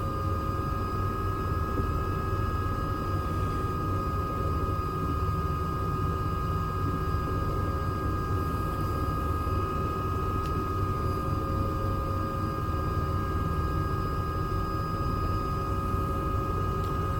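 A helicopter engine in Microsoft Flight Simulator 2024, a steady droning hum with sustained whine tones, unchanging and fairly quiet throughout, with no talking.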